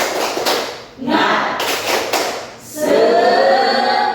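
A classroom spirit cheer, tepuk semangat: a few sharp claps in a short rhythmic pattern, close and loud, with a voice chanting along in the latter part.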